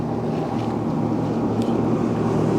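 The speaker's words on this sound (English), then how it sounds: "Or I can switch to my 16th ounce jig if the wind's gonna keep blowing like that." Wind blowing across a fishing boat, a loud continuous rumbling buffet against the microphone with no pauses.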